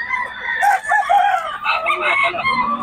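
Rooster crowing at a gamefowl market in Bocaue, a near, fairly loud call with bursts of clucking and other fowl around it, and faint voices in the background.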